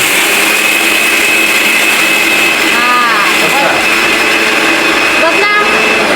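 Kitchen mixer grinder running with a loud, steady high-pitched whine that stays constant throughout, close, while a voice speaks briefly over it.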